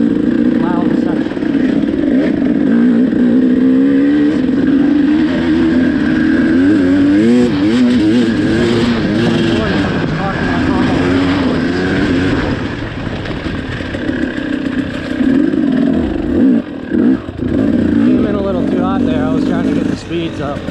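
Dirt bike engine roaring loud and steady through a fast riding section, revving up and down continuously, with a rider's voice talking over it.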